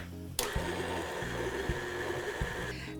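Chestnut batter with grated nutmeg being mixed by an electric mixer, a steady close whirring motor hum with a few light knocks as the beaters strike the bowl, ending abruptly.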